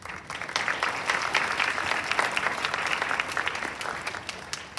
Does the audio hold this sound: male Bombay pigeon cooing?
no